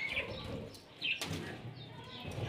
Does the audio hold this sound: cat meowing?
no